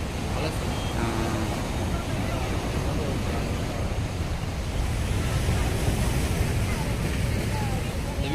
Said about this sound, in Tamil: இந்த கடல் பயங்கரமான சீற்றமாக இருக்குங்க